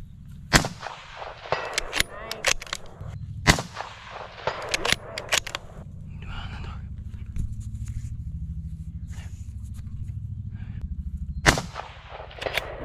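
Rifle shots fired from a tripod at a target during a SIG hunting competition: several sharp, loud cracks spaced seconds apart, over low background rumble and faint movement.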